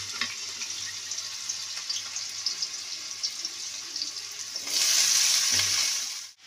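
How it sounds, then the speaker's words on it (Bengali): Potatoes drop into hot oil in a wok, a soft steady crackle rising to a louder, brighter sizzle near the end before it cuts off. "এই তেলটা গরম হয়ে গেছে, কড়াইয়ে আমি আলুগুলো দিয়ে দিচ্ছি।"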